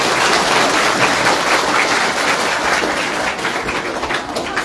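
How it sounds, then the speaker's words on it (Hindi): An audience bursts into dense, sustained applause at a school quiz event in Shimla, clapping loudly and steadily throughout before easing slightly toward the end. "अब तालियां बजाइए।"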